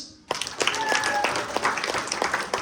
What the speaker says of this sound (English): A round of applause for the bridesmaids.